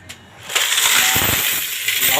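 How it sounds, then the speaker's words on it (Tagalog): Coins laid down and poured out onto a surface, a near, loud, steady metallic jingling rush lasting about two seconds. "Guys, so lapag na natin yung mga barya."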